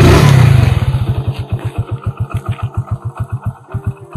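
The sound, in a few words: Hero Splendor Plus motorcycle engine starting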